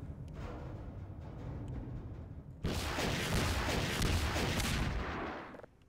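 Tank cannon fire in the early 2001 beta of Half-Life 2: a rumbling game ambience gives way to a sudden loud, sustained barrage of heavy booming blasts that roll on for several seconds before cutting off.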